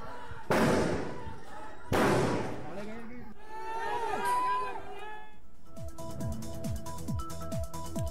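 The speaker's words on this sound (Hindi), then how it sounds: "फायरिंग फायरिंग हाँ फायरिंग फायरिंग फायरिंग" Two loud, sharp gunshots fired close by, about a second and a half apart, followed by excited shouting voices and a ringing, tonal din.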